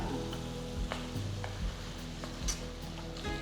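Tomatoes cook in a pan over a high flame with a soft continuous sizzle, punctuated by occasional clinks and stirring knocks, under a low steady hum.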